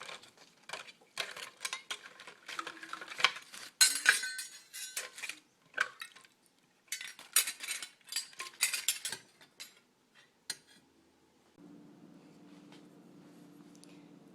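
Silver-plated silverware clinks and clatters while being rinsed under water, bursts of bright metallic chinks coming in irregular clusters, close up, ending in a quieter steady running-water hiss.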